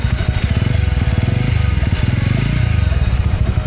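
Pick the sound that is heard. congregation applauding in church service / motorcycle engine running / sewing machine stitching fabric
motorcycle engine running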